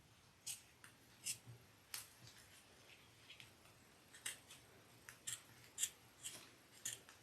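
Scissors snip steadily through exterior fabric for a fold-over cross-body bag, trimming it close to the seam. The crisp, quiet cuts come one after another in an uneven rhythm against a hushed background.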